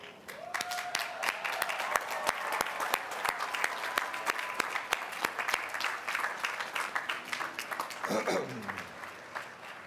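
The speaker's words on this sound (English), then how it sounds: "giving those people a well-deserved round of applause" Standing applause at a College of Business commencement, with sustained clapping from a large crowd, some sharp individual claps standing out near the front, and faint voices mixed in.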